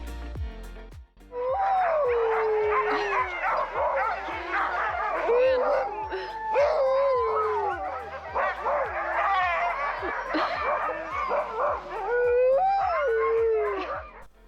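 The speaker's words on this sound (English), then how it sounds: "the dogs were barking so much" Sled huskies in Finnish Lapland, hitched up and eager before a ride, raise a loud chorus of overlapping howls, yips and barks that continues almost without pause for the whole stretch.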